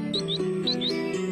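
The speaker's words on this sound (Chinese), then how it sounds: "小蓝的叫声真好听" A small pet bird chirping, four quick high rising tweets in two pairs followed by a fainter fifth, close by over a low steady hum.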